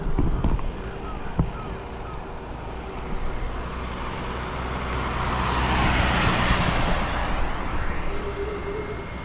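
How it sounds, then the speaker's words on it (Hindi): A vehicle approaching on a road near the Nepal border, a broad engine and tyre roar swelling gradually to a peak and fading, with wind-like background noise and a few knocks early on. "अभी देखो एक गाड़ी आ रही है,"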